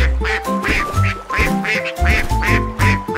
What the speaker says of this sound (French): Tous les canards cancanaient et battaient des ailes.